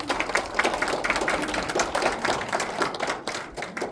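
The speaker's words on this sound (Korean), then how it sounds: "박수 한번 쳐주세요." An audience at a national poetry recitation contest claps in a quick, steady patter, moderately loud and continuous, with no speech over it.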